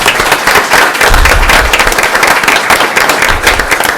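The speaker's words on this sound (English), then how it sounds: "Please join me in thanking them for their hard work with a round of applause." A board meeting audience gives a loud, close round of applause, dense rapid clapping that carries on evenly for about four seconds.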